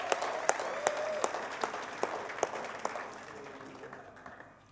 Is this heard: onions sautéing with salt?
no